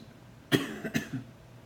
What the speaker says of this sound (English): I have been battling a cough.